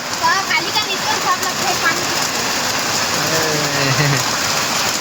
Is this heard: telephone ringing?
no